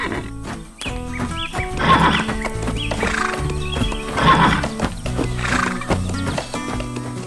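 A brown horse arriving by red truck on a cartoon farm neighs in two loud, bright bursts alongside steady clip-clopping hooves, with a layer of background music running throughout.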